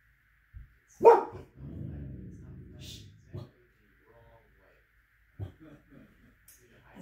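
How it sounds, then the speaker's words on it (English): A dog barks indoors, one sharp loud bark followed by a drawn-out growling yip and a few shorter later barks, spaced by quiet gaps. "If you had trouble hearing that because of Clara barking"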